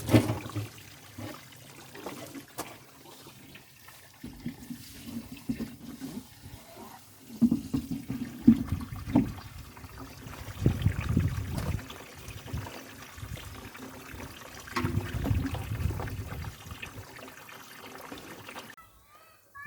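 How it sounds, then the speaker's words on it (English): Water running back into a freshly cleaned koi pond filter tank, a steady low splashing and gurgling flow that swells and eases in surges, fairly close and continuous throughout. "Water's just starting to go back in."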